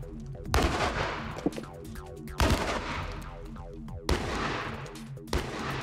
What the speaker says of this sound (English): Now, the cannon will be trained on the earth-backed section of brick wall.